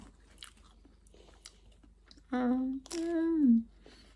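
Soft, faint chewing of fried fish and fish cake at a Norwegian outdoor meal, broken by a couple of loud hummed, voiced murmurs partway through.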